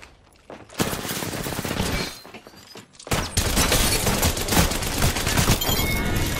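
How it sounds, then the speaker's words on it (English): Heavy automatic gunfire from an Apex Legends firefight, a loud sustained crackle that breaks off briefly and then resumes even harder, with sharp impacts and shattering hits mixed in. "Getting shot at."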